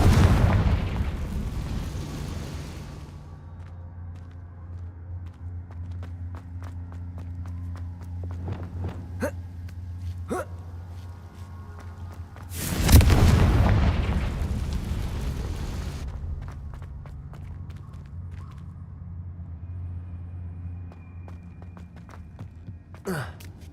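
Confringo fire spells burst in Hogwarts Legacy as two heavy, booming explosions, one at the start and one midway, each rumbling off slowly, with lighter cracks and impacts scattered between over a low ambient drone.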